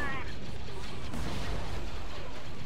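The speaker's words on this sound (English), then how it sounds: "Yeah, just keep lobbing in the grenades here." Grenade blasts in the Star Wars Battlefront 2 video game, sounding as dense, continuous rumbling booms and gunfire-like crackle that fill the whole stretch, with a voice faintly mixed in.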